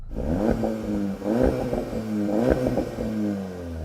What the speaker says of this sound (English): Now I know that Golf has got the Akrapovic upgrade on it, so that should sound pretty good